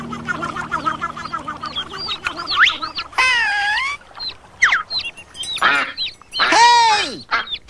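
A mother duck quacks near a duckling in a run of loud, harsh calls, with chirping and clucking bird sounds at the start and several strong, drawn-out quacks later.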